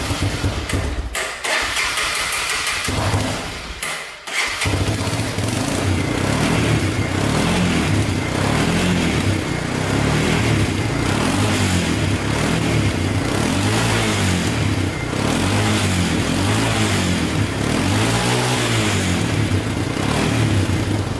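A Honda Fourtrax ATV engine cranks with a few sputtering attempts, then catches and runs loud and close, idling roughly with repeated rises and falls in revs throughout.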